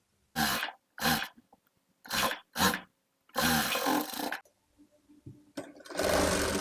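A sewing machine runs in several short bursts, stitching a sleeve onto a baby frock, with brief pauses between runs and a longer steady run near the end, close and fairly loud.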